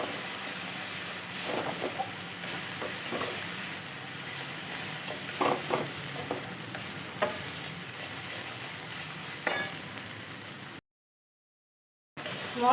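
Ground cumin, coriander and turmeric spice paste frying in a pan for a fish curry with plantain and pointed gourd, a steady close sizzle and hiss with occasional stirring scrapes, cutting to brief silence near the end.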